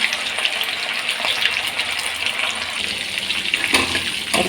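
Prawns frying in a pan, a steady close hiss and sizzle of oil running throughout, with faint pops and no talking.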